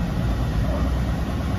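A Mitsubishi L300 van engine idles with a steady low rumble, close and continuous, with no pauses or revving.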